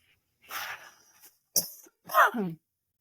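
Several separate coughs and a throat clearing come close and fairly loud: a breathy cough first, then a sharp short burst, then a harsher, rougher cough, with near silence between them.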